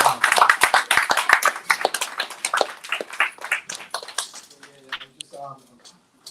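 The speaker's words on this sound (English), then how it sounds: "Y'all clap it up for all the future artists that came through." An audience at a mental health and poetry event claps in a burst that tapers off over several seconds, with a voice speaking over the applause as it fades.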